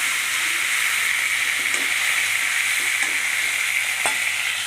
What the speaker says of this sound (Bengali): এবার আবার ভালো করে নাড়াচাড়া করে করে চিকেনটাকে ভেজে নেব।